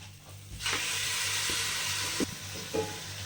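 Washed mutton drops into a pan of sautéed onions, and a loud sizzle surges after a quieter start, then holds steady with a few stirring knocks, close and without speech.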